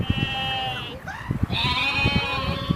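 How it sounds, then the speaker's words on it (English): A frightened goat bleats several times up close, each cry loud and wavering, with a short pause in the middle and faint voices in the background. "you scared the goat"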